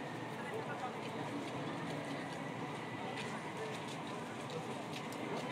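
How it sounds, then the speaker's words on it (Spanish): Rain falling in the city of Chihuahua during the season's first downpour, a soft, even hiss that stays faint and constant throughout. "Sigue lloviendo."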